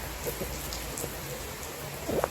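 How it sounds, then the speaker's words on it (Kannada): Heavy rain falls steadily outside a garage, a dense continuous hiss with scattered drop impacts and a brief louder splash near the end, with no voices. "ಇದು ಯಾಕೋ ಮಳೆ ಈ ಲೆವೆಲಿಗೆ ಸೀನ್ ಮಾಡ್ತಾ ಇದೆ"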